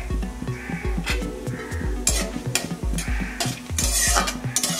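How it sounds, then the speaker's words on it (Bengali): Whole spices, cumin, bay leaf, two dried chillies, cardamom and cinnamon, fry in a pan, giving an intermittent crackling sizzle with stirring scrapes over steady background music. "দিয়ে দিচ্ছি জিরা, দিয়ে দিচ্ছি তেজপাতা, দিয়ে দিচ্ছি দুটো শুকনো মরিচ, দিয়ে দিচ্ছি এলাচ, দারচিনি।"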